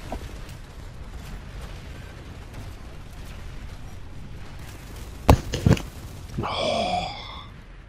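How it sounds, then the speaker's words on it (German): A flashbang grenade goes off in the online shooter Planetside 2, a sharp close crack and a second burst over steady battle noise, then a bright ringing hiss that fades. "hier ist Flashbang, das ist voll hässlich"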